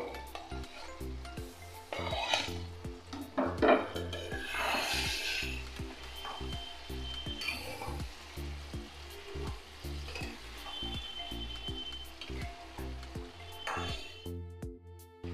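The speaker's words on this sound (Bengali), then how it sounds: "এবার দিয়ে দেব পনিরগুলো" Paneer pieces go into a pan of spiced masala, setting off a steady, close sizzle of frying with repeated scraping and stirring strokes throughout; no one speaks.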